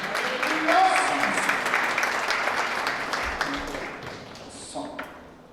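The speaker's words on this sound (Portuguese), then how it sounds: "Uma salva de palmas para o Senhor" A church congregation at a Protestant Reformation celebration breaks into loud, dense applause that gradually thins and fades, with scattered voices and shouts mixed in.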